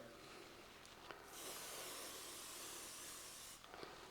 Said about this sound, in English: a little bit more spray.